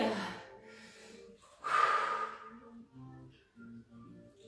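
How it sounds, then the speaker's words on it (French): A deep inhalation during a yoga class, drawn in through the nose with a snorting, gasping quality, then softer breathing and quiet movement, close and moderately loud. "J'inspire."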